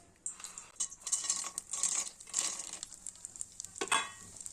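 Dry fruits frying in a pan for sugarcane-juice pongal: a light, close sizzle mixed with short stirring clinks and scrapes, brief and unaccompanied by talk.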